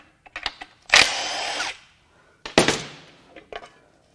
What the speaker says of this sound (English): Let's get this valve cover unbolted.